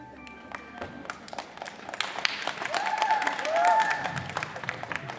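Applause from an audience at a women's gymnastics award ceremony, steady clapping building toward the end with some cheering and a voice speaking over it.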